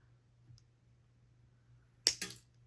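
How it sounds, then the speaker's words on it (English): A paper craft junk journal piece being snipped off, a faint tick followed by one sharp, close crisp snip and a short rattle in near silence. "I grabbed something to snip that off"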